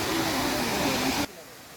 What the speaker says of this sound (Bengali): এই যে ঝর্ণার শব্দ কিন্তু শোনা যেতেছে অলরেডি